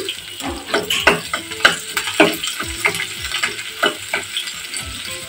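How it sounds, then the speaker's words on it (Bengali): Chopped garlic and onion fry in hot oil for a lentil dish, a steady close sizzle broken by crackles and the scrape of stirring, with no talk. "দিচ্ছি রসুন কুচি এবং কিছু পেঁয়াজ কুচি।"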